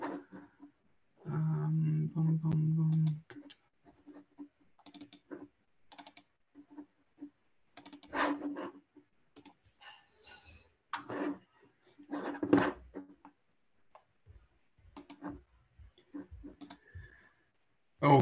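Scattered computer mouse clicks, some in quick doubles, come through an online meeting alongside a short buzzy tone and faint background sounds.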